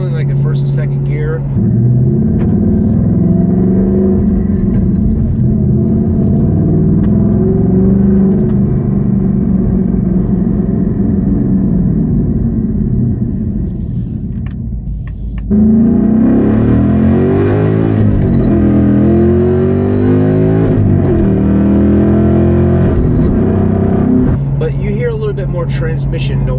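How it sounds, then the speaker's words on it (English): A 2024+ Ford Mustang fitted with a Steeda shifter gives a steady low drivetrain drone with gear noise, rising into a louder, busier rev around the middle of the stretch, while someone talks over it. "Transmission noise, and it kind of adds, in my opinion, to like the visceral experience of the Mustang"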